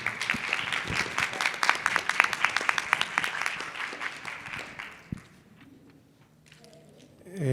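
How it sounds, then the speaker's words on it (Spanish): An audience at an international academic conference applauds in a burst of dense clapping that fades out after about five seconds, leaving quiet room sound with faint movement and a brief noise at the end. "Les pido de favor que le brindemos un fuerte aplauso."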